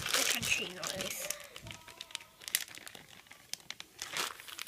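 Crunchy slime is squished and poked by hand, giving close, soft crinkling and crackling bursts in short irregular clusters, fairly quiet.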